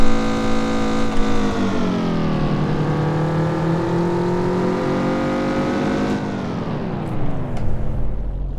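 A Mazda Familia's engine revs hard in City Car Driving, loud and steady with pitch swinging up and down through gear changes and a drop near the end, no talk over it.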